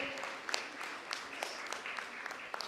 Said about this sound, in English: Audience, with a big round of applause, kindly appreciate and congratulate